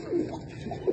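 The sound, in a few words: black-faced pigeons cooing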